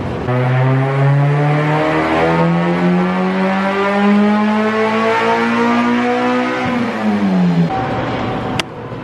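A stout K24 engine in an Acura Integra on a dyno during a final tuning run revs loud and steadily higher for several seconds, then drops off sharply near the end.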